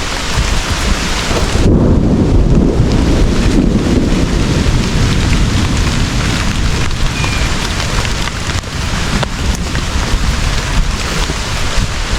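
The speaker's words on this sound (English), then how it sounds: "I just want you to see how fast it can start pouring down." A tropical downpour in the Amazon jungle: heavy rain pounds steadily on leaves and surfaces while thunder rumbles through it, loud and enveloping from start to finish.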